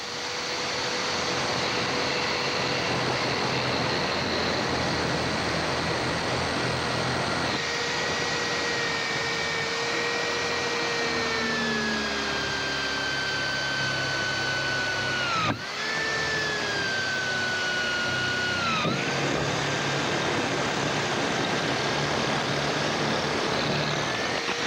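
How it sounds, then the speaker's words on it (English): An ARTU multi-purpose drill bit bores through ceramic, wood, a steel disc rotor and red brick in turn, the drill whining continuously with shifting pitch and brief dips between materials, loud and close, with no talk. "drill ceramic into wood, into a steel disc rotor, and then into a red brick with the same drill bit"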